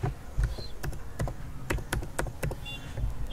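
Keys tap on a computer keyboard in a quick, uneven run of sharp clicks, close and fairly quiet, with soft background hum.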